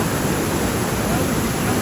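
Steady broadband rush of falling water, continuous and close, like a small cascade splashing without pause.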